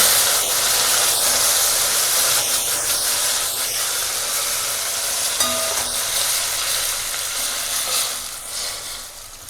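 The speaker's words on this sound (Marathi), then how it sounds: "उकळतं पाणी घालायचं आणि सांभाळून घालायचं" A loud, steady hiss and sizzle of boiling water poured onto roasted semolina in a pan, broad and continuous with faint clicks, slowly easing toward the end.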